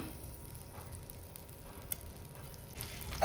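About one and a half tablespoons of butter melting in a pan for a white sauce, giving off a soft, faint, steady sizzle that swells a little louder near the end.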